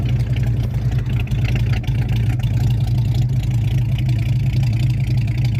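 The 255 V8 in a 1982 Mercury Capri idles steadily through glass pack mufflers, giving a loud, deep, continuous rumble with an even, throbbing pulse and no talking.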